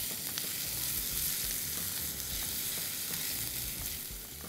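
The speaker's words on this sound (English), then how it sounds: "once you start getting that great smell of ginger garlic being fried" Chopped garlic and ginger stir-frying in a pan over a high flame for a water chestnut and mushroom stir fry, giving a dense continuous crackle and sizzle with soft stirring noises throughout.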